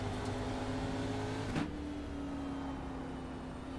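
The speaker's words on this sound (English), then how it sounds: "You can hear the short shift there as it came through that corner, then start to feed the power in again." Onboard a EuroNASCAR race car at Indianapolis Motor Speedway, the engine drones steadily, then a quick short shift breaks the tone as it comes through a corner before the power builds again, under faint broadcast background.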